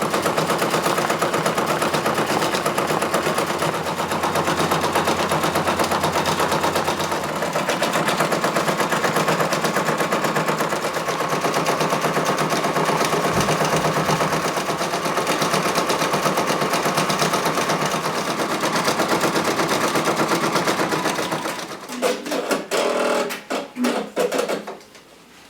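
A Brother Persona embroidery machine stitches a satin stitch on a patch with a fast, steady, close mechanical rattle. It runs continuously, then breaks into stuttering, sparser bursts near the end as the stitching finishes.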